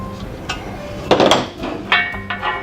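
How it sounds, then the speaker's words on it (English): A wrench clicks and clanks while tightening a screw on an ELEY Model 1043 portable hose reel cart, with several sharp metallic knocks and rattles spaced irregularly, close and fairly loud. "Take your wrench and tighten that down firmly."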